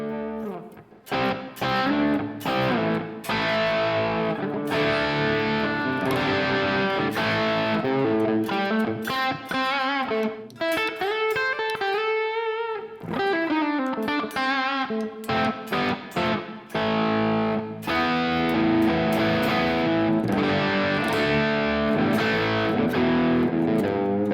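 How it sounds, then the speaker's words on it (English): Electric guitar through a Marshall JCM800 amp plug-in with mild crunchy overdrive, only slight saturation, strummed chords and single-note runs ringing out loud and continuous with no voices. "It's a crunch, so the distortion is not supposed to take over."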